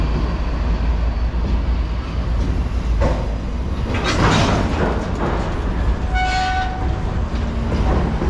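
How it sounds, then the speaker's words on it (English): A Norfolk Southern lashup of ES44AC freight locomotives rumbles loudly and steadily as it stops at a red signal at an interlocking, with a short horn blast partway through. "First train of the day."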